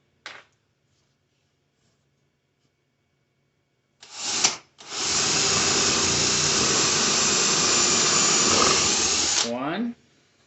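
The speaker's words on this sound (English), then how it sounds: "I'm going to drill my holes through this one" A brief burst of a power drill, then a long steady whine of drilling a 1/4-inch hole through wood lasting several seconds before it winds down; close and loud.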